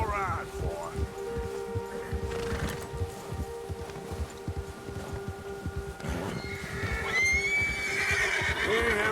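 In the Red Dead Redemption 2 video game, a horse whinnies and snorts amid clip-clopping hooves, with a rising neigh near the end, while voices talk throughout.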